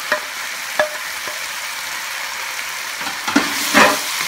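Chopped onion and bell pepper fry in a hot pan for Shanghai chicken, a steady loud sizzle broken by a few sharp scraping stirs of a utensil toward the end.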